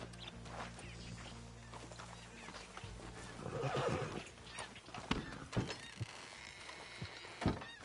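Horses neigh and whinny with clip-clopping hooves while being hitched up in the Red Dead Redemption 2 video game, a sustained low hum underneath and a few sharp knocks and snorts near the end.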